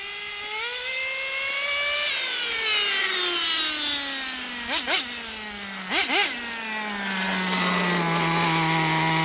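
A small nitro engine in an HPI WR8 Subaru RC car whines loudly, then its pitch slides steadily down toward a lower idle, with two brief throttle blips partway through.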